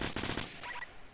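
Rapid gunfire in the Fortnite video game, a quick burst of close, loud shots in the first half, fading into a brief scattered rattle before trailing off.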